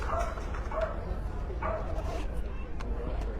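Dog bark and yip at an outdoor pastoral-group dog show in Windsor, a few short repeated barks over continuous crowd chatter and nearby talking.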